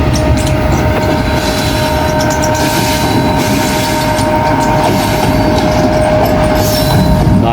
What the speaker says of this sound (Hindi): और ये माजी की लेजेंडरी शालीमार एक्सप्रेस, जो अब एक घटिया सी मुसाफिर ट्रेन में तब्दील हो चुकी है।